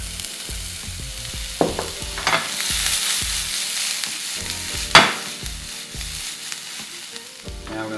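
Garlic frying in a pan for prawns, a close, steady sizzle broken by stirring scrapes and clinks, with a sharper metallic knock midway and no voices.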